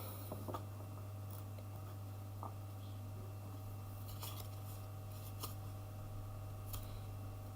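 Soft scattered clicks and shuffling taps of tarot-style reading cards being cleared and shuffled, close and quiet over a steady electrical hum.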